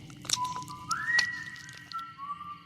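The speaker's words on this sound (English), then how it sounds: "A whistle came from down the hall." A clear whistle sounds nearby, sliding upward in pitch, then settles into a steadier, lower held note before fading.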